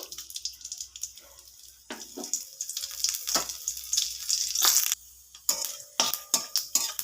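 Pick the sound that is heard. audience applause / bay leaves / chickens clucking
bay leaves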